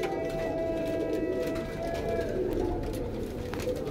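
Old golden pigeons coo softly and steadily against a constant background hum, with a faint voice or two mixed in.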